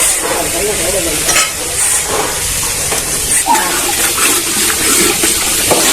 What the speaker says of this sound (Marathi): पिस्ता टाकून घ्यायचे काजू बदाम आणि त्याच्यामध्ये चारोळे वगैरे सगळे आहे तर ते सगळं परतून घेऊया